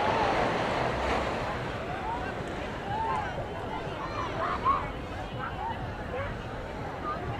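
Sea waves washing onto Juhu beach at Mumbai, a continuous broad roar of surf mixed with wind buffeting the microphone, with a person talking over it throughout.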